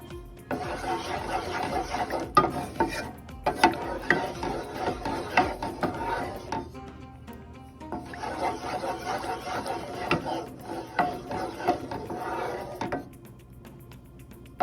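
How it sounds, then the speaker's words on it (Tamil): Jackfruit payasam with jaggery and milk being stirred in a pot on a medium flame, a steady scraping and swishing of the spoon that continues in long stretches with a brief pause midway. "நல்லா அந்த பாலில் மீடியம் ஃப்ளேமில் வச்சு நல்லா மிக்ஸ் பண்ணுங்க"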